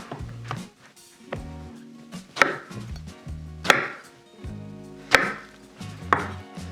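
A knife chops through eggplant into planks on a cutting board. Sharp thuds land in an uneven rhythm, about five strong cuts with softer knocks between them, close and clear with no talking.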